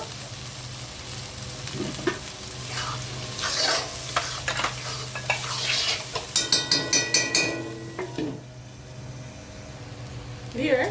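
Brain fries in a pan with a steady sizzle as turmeric and coriander powder go in. A spoon stirs and scrapes through it, and a run of quick metallic taps sounds partway through before the frying settles back to a constant hiss.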